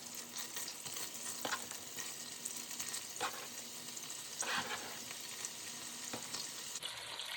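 Chopped bacon, about five strips cut into inch pieces, fries in a pot for Southern-style collard greens, with a continuous soft sizzle and occasional stirring scrapes. No one talks.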